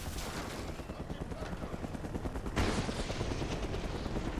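Rapid automatic gunfire and explosive bursts from a Mercenaries 2 war-zone battle with a helicopter around, a dense continuous barrage that swells into a louder blast partway through.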